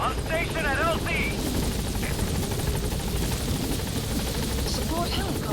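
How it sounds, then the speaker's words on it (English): A support helicopter's steady rotor roar fills the clip, loud and close, with a voice and brief electronic chirps early on, in the video game Metal Gear Solid V: The Phantom Pain. "Support helicopter has arrived."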